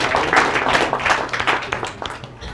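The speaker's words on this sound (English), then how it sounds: "Let's get a round of applause for Morley" A steady burst of audience applause follows the introduction of an evening program's speaker, with dense, even clapping that holds briefly and then thins out.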